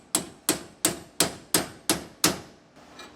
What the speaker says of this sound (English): I can hammer on that instead of on the bushing itself